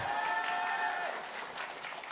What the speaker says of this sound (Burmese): လက်ခုပ်တီးပေးရမယ